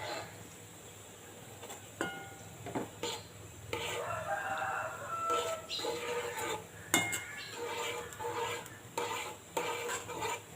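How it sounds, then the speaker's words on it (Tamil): Beaten eggs stirred in a hot pan for egg podimas, a spatula scraping and clinking against the metal in irregular strokes over a steady soft sizzle, close and moderately loud with no talking. "முட்டையை நல்லா மிக்ஸ் பண்ணிக்கிட்டே இருங்க"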